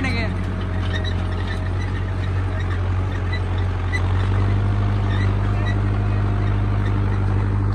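An Arjun Novo 605 DI-I tractor ploughing a field at 1500 rpm in high gear drones with a loud, steady low engine rumble close by, running continuously throughout.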